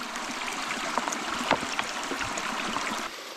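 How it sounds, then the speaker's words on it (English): Water filter pouch being dipped and filled in a backcountry stream in Washington, with a steady rushing trickle of flowing water close by and small gurgling splashes as it fills, no voices. "you find a water source, you fill this up"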